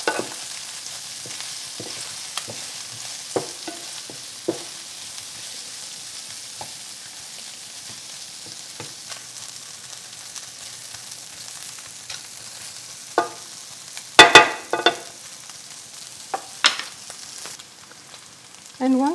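Sausages brown in a pan for a sausage goulash, a quiet, steady background sizzle broken by intermittent clicks and scrapes of turning, with a cluster of louder clatters toward the end.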